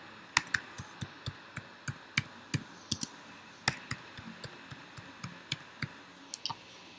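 Quiet, irregular clicking of computer keyboard keys as a password is typed, about twenty separate keystrokes spread evenly over several seconds, close and crisp against a faint room hiss.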